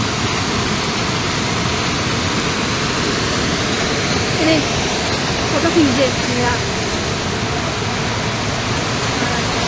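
Dassam Falls, a waterfall in winter with lower flow, roars as a loud, unbroken wash of rushing water that stays constant throughout.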